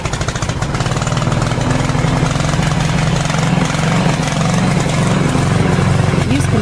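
A brushless remote-control crawler weed mower's engine runs steadily after a pull start, a loud, continuous rough drone with a rapid mechanical chatter that keeps going through the whole stretch with no talk.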